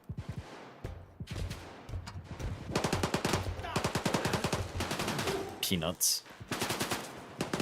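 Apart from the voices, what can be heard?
gunfire in the video game STALKER GAMMA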